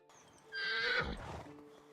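A horse in the medieval village game Medieval Dynasty gives a single clear whinny that rises and fades, with soft hoof clip-clops underneath, set against quiet game ambience.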